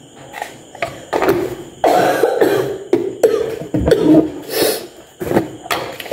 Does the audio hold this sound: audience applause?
no